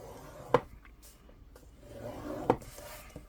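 Cardstock scored on a scoreboard for a wedding album craft, with two short sharp rubbing strokes about two seconds apart and soft quiet handling between them, close and faint.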